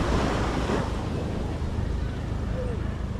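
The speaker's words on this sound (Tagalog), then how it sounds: "Talakas ang hangin" Strong wind roars steadily across the microphone, a dense broadband rush with surf-like texture running the whole time, loud and close.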